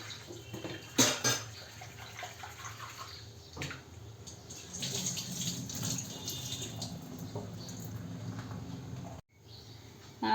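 Water splashes and swishes in a container as urad dal is rinsed, with soft running-water noise and a few clinks, fairly quiet and close.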